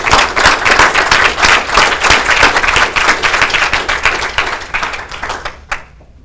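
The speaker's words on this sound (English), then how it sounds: "You all deserve a round of applause." Audience applause after a talk at a university JavaScript meetup, dense, close clapping from many hands that thins out and stops near the end.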